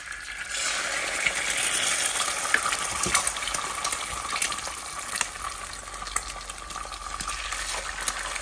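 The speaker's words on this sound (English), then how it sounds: "I'm going to fry 3 eggs" Three eggs frying in a pan for breakfast, a steady dense sizzle and crackle held close and loud throughout, with scattered sharper pops and spits.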